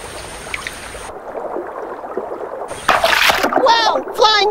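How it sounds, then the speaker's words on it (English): An arowana fish leaps from river water with a sudden burst of splashing that follows a stretch of quiet flowing water. Voices are heard near the end. "The arowana fish bends its body and suddenly leaps out of the water like an uncoiling spring"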